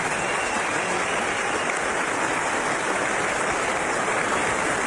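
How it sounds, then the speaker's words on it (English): A cricket crowd in Sydney gives a standing ovation to Allan Border at an Australia versus West Indies Test, a steady, loud roar of sustained applause heard through an old radio broadcast. "Great ovation by the crowd in Sydney"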